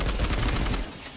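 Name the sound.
automatic weapon firing in a video game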